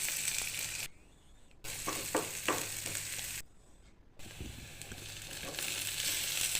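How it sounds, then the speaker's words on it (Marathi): Chopped onion roasting in a little oil in a pan for a mutton dish: a steady close sizzle with scraping stir strokes, broken twice by short quiet gaps. "त्यानंतर कांदा भाजून घ्यायचा थोडंसं तेल घालून घ्यायचं"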